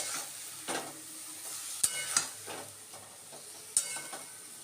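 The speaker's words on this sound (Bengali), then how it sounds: "সবজিটা ভাজা হয়ে গেছে আর শাকটা দিয়ে মিক্স করে নেব" Vegetables mixed with leafy greens being stirred in a hot pan: a faint steady sizzle with several distinct scraping clacks of a spatula against the pan, spaced irregularly, close by.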